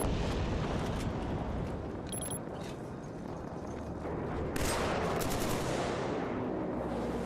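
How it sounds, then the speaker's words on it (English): Assault rifle fire in the Killzone 3 shooter game, dense rapid bursts of gunshots over loud rumbling battle explosions, continuous and close throughout. "I'm going to snipe the snipers with my mid-range assault rifle."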